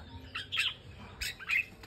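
Small caged songbird, said to sell for over three million dong, giving short bright chirps in a few bursts over quiet room noise, close and moderately loud, with no talking.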